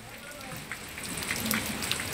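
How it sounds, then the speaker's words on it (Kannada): Heavy unseasonal rain falls steadily in Karnataka, a dense, even hiss of drops on surfaces with scattered brighter splashes, continuous and fairly close throughout. "ಸೊ ರಾಜ್ಯದ ಅನೇಕ ಭಾಗದಲ್ಲಿ ಯಾವ ರೀತಿ ಮಳೆ ರಾಯ ತನ್ನ ಆರ್ಭಟವನ್ನು ಮುಂದುವರಿಸಿದ್ದಾನೆ"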